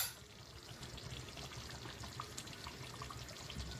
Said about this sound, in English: Now we'll add the coconut milk